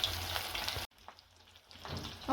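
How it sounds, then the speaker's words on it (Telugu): Fish frying in a pan at medium heat, a soft crackling sizzle that cuts off abruptly, goes near-silent, then gradually returns, quiet and close with no talking. "కొంచెం మీడియం సైజులో పెట్టుకొని చేప మంచిగా వేయించుకోవాలి"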